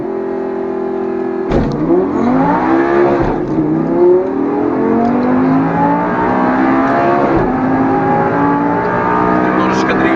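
An Audi R8 sports car accelerates hard from a start with a slight drift, its engine note climbing steadily through rising gear sweeps with sharp shift breaks, loud and close, under occasional talk.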